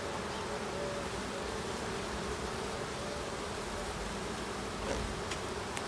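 Honeybees hum in a steady, dense drone around a hive colony at the end of summer, with close individual bees buzzing past over the constant swarm.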